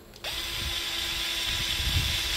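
A power tool spins steadily while threading a rod end onto an RC crawler suspension link, a continuous close whirring drone with a faint ratcheting edge that starts abruptly after a brief quiet moment and runs unbroken.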